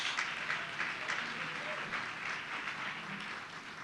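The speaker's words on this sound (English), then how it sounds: "So everyone, give him a round of applause." Applause from the audience at a 2015 ceremony renaming a building after the Bruce C. Bolling, a steady wash of many hands clapping that holds evenly throughout with no voices on top.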